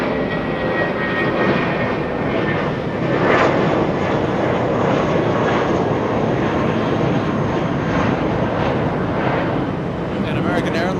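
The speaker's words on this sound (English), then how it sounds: "And American Airlines flying to Brucetown, flying to Phoenix, Arizona" An American Airlines Airbus A320 departing Los Angeles International Airport for Phoenix produces a loud, sustained jet roar throughout, rough and steady with slight surges, close enough to fill the scene.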